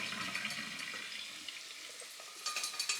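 Cooking water poured off boiled noodles, a steady close rushing splash of running water that swells again near the end, with no talking.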